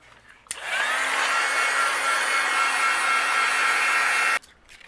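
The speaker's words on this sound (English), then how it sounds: "And then I'll use my heat gun and we will melt this." A heat gun blows steadily for about four seconds, melting fine-detail embossing powder on a stamped card; a loud, even whooshing hum starts abruptly and cuts off cleanly, with no talking.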